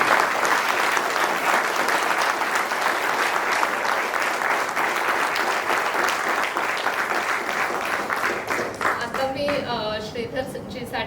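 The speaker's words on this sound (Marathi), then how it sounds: "तर एक जोरदार टाळ्या त्यांच्यासाठी" An audience gives a lecturer a hearty round of applause, dense clapping from many hands filling the room, then tapering off as a voice begins speaking near the end.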